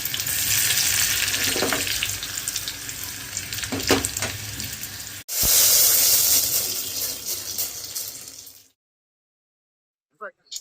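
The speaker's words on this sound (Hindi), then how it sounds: "अब इसमें मैं साबुत लाल मिर्च जीरा का छौंका दूंगी, लहसुन डाल के" Loud, steady sizzling of whole red chilies and cumin dropped into hot oil, with a brief break midway before the frying cuts off into silence.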